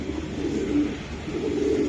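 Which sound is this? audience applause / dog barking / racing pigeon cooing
racing pigeon cooing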